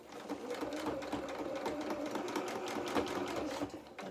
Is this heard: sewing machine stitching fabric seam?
yes